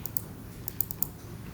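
Keys on a computer keyboard are pressed in a short, quiet burst of light, irregular clicks with a soft room hush in between and no voices.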